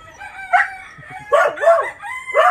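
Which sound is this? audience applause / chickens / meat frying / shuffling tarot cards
chickens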